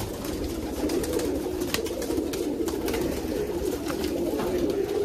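Many Giribaj pigeons kept in a loft, cooing continuously in a dense, murmuring chorus that stays steady and near throughout, with no talk.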